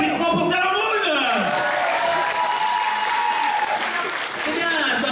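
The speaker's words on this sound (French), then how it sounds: "Applaudissements pour Sailor Moon" An audience at a pizza quiz at the 2012 Lyon Geek Show convention claps loudly and steadily for a Sailor Moon answer, with shouts and talking voices mixed into the dense applause.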